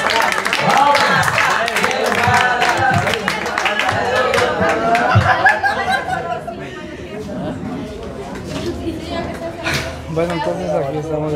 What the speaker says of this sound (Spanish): Felicidades, Dairin, bravo, un aplauso